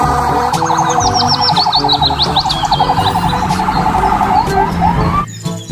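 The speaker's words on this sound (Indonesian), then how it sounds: "Lihat teman-teman, di sini ada mobil polisi ambulans." A toy police car and ambulance siren wails loudly and continuously with a rapid warbling electronic tone, close up, cutting off abruptly near the end.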